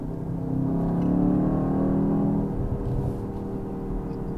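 BMW X2 M35i xDrive in Sport mode gives a throaty engine drone that swells and eases slightly, heard from inside the cabin as a steady, moderately loud hum with no talking.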